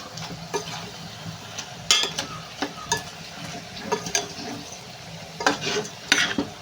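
Mango chicken curry bubbling and simmering in a pan, with soft sizzling under repeated sharp clinks and scrapes of a utensil stirring against the metal, fairly close and no voices.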